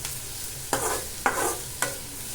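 Food stirred and sautéing in a pan with turmeric and pepper added, a soft steady sizzle broken by three distinct scraping stirs, close and moderately loud, no talking.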